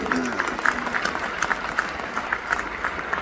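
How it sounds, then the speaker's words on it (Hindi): Crowd applause and cheering at a rally for Home Minister Amit Shah, sustained dense clapping with scattered shouts, steady and fairly loud throughout. "आप लोग खुश हो, ताली बजा रहे हो, हर्षनाद कर रहे हो"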